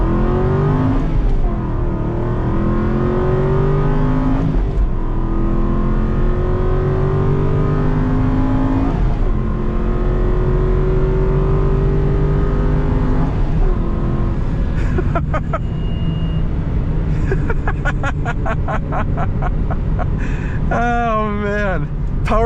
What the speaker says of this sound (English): powering through those gears, just it makes you feel like a superhero.